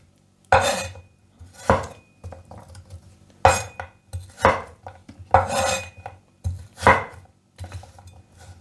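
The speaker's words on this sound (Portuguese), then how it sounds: "vamos cortar assim, ó, aqui no meio. Aqui na diagonal" A knife slices diagonally through cabbage on a cutting board, about eight crisp separate chops at an uneven pace, close and clear in a quiet kitchen.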